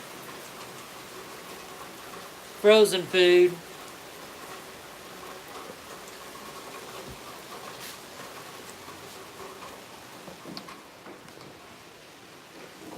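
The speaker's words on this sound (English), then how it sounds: "Oh, starting to come down harder. Gotta love the Florida rain." Heavy Florida rain falling steadily outdoors, a continuous dense hiss throughout, with a brief burst of a voice early on.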